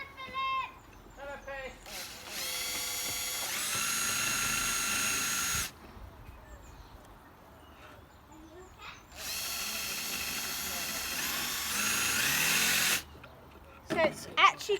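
A power drill boring into wood for a homemade spice rack, two sustained whining bursts of several seconds each separated by a pause, close and loud, with quieter handling sounds and brief speech between.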